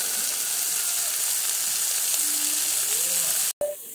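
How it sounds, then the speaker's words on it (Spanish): Meat frying in a pan with oil, a loud continuous crackling sizzle close by, steady throughout with a brief dropout near the end. "Oigan el ruido tan delicioso del sartén."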